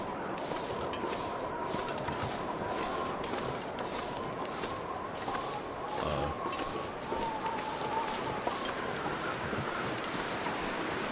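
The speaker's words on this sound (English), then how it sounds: "Windy as hell" Strong, steady wind howls and rushes across the open landscape in the survival video game The Long Dark, a continuous moderate roar with gusty swells and no talking.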